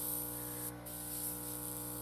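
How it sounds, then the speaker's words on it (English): A steady, directed hiss of an airbrush spraying paint holds for about two seconds, close and even, with one short dip where the spray briefly cuts back. "it's such a directed spray, or you can make it such a directed spray"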